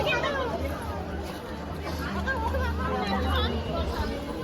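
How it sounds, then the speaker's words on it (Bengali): A dense, steady babble of many voices fills a crowded railway station in Kalyani, loud and continuous with no single speaker standing out. "দেখতেই পাচ্ছি স্টেশনে কতটা ভিড়"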